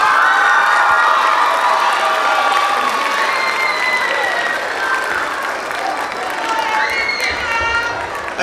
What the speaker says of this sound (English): Give it up one more time for your 8th grade band